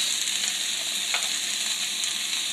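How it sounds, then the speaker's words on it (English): Gold beets and Brussels sprouts sizzling and frying in a hot pan, a steady, close crackling hiss with a faint stir in the middle. "we're going to add our gold beets. And I'm just going to dump those in there. Oh, listen to those."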